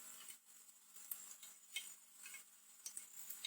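Onion frying in about half a cup of hot oil for matar pulao, a faint steady crackling sizzle with a few soft clicks and stirs, heard alone without voices.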